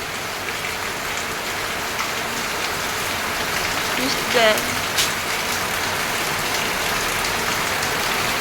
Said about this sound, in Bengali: দেখো জল দেখছে, বৃষ্টির জল।